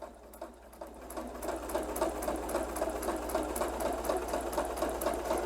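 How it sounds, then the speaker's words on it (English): A sewing machine stitching quilt pieces for a Hunter Star quilt, its needle running in a steady, fast mechanical chatter with a low motor hum, close and continuous. "I'm stitching right next to the line on this side of it"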